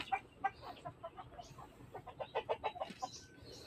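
Farm ducks (itik) raised from a home-made incubator give a chatter of short, rapid quacks and clucks, several birds calling in quick bursts at moderate volume.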